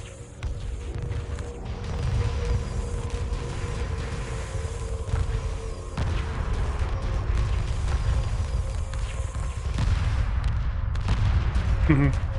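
Torpedo missiles firing in the space strategy game Homeworld, a dense, continuous rumble of launches and impacts with sharp cracks scattered throughout, loud and steady, with game hum and a few mechanical creaks underneath.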